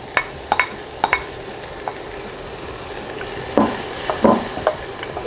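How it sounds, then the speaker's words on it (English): Onions sauté in oil in a skillet for pork chili verde, a steady sizzle punctuated by sharp spatula scrapes and clicks, with louder stirring bursts later on, close up and without speech. "Now I'm gonna saute my onions."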